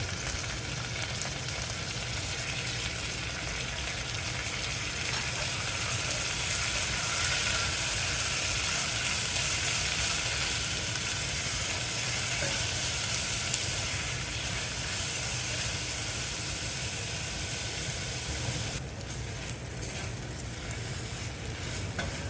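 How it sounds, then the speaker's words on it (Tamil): Onion, green chili, mint and ginger garlic paste sautéing together in a pan for coconut milk pulao, with a steady loud sizzle and frying hiss and intermittent stirring scrapes running throughout. "வெங்காயம், பச்சை மிளகாய், புதினா, இஞ்சி பூண்டு பேஸ்ட்டு எல்லாத்தையுமே ஒன்றா சேர்த்து வதக்கலாம்."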